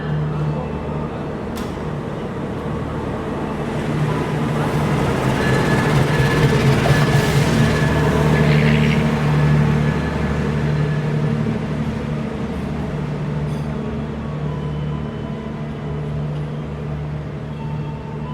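An Argo train rumbles past on the railway with a steady, loud roar that swells in the middle and eases off, with no talking.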